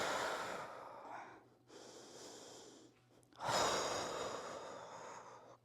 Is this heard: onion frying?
no